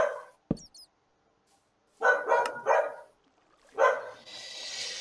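A dog barks in the Minecraft video game: a quick yip early on, then two bursts of fairly loud barking separated by silence, with a hissing noise at the end.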